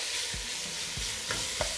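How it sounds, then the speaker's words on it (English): A pound of bacon fries in a pot for Zuppa Toscana, a steady close sizzle with a few soft low thumps and scrapes as it gets stirred, no voices. "We're going to begin by cooking 1 pound of bacon."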